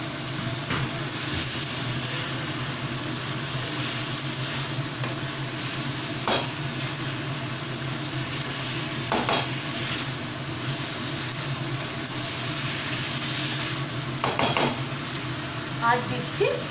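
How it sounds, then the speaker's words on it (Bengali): Two eggs go into a fully cooked-down spiced masala for a Bengali egg curry with winter vegetables, producing a continuous dense sizzle with occasional scrapes and knocks from a utensil. "এবার আমি এর মধ্যে ডিম দুটোকে দিয়ে দিচ্ছি।"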